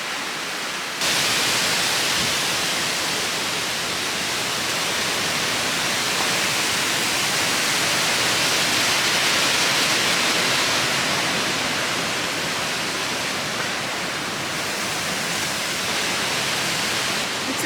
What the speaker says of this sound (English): Lots of wind and rain